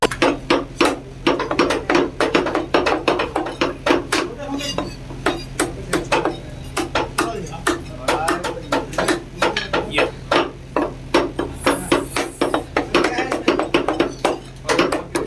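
A butcher in a Hyderabad mutton shop chops mutton with a cleaver, loud rapid thwacks on a wooden block in fast repeated bursts with brief pauses, while voices talk in the shop.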